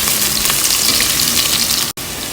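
Ginger and onion sizzle steadily in hot oil in a pan, a dense, loud frying hiss that runs continuously with a brief cut near the end and no talking.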